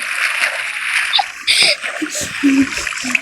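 Water splashing while swimming in a Minecraft pool, with several short splash bursts and watery sounds.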